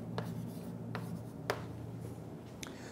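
Chalk or marker strokes on a lecture board during a math class come as a few faint, separate taps and scratches over a steady low room hum.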